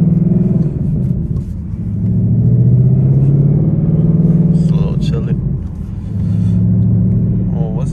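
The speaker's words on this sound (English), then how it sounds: "Let this car warm up real quick." A 2020 Ford Mustang GT engine running while warming up, a loud deep rumble that swells and dips with revving, heard up close from inside the car with a voice talking over it.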